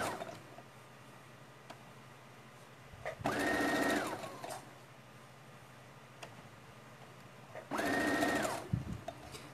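A sewing machine backstitches fabric for a rag doll in two steady, close whirring runs of about a second each, separated by quiet pauses with faint handling sounds.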